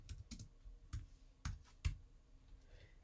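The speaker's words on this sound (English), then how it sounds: "I'll type yum." Command being typed on a computer keyboard for a Linux server install, a few sharp, irregular clicks spaced apart, close and quiet with no talk.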